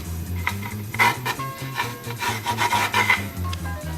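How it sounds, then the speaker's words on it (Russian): A blade scrapes wood off the body of a sigudok, a Komi folk bowed string instrument, in quick rhythmic rasping strokes, close and fairly loud with no talk. "Начинаем аккуратно снимать древесину до этой линии."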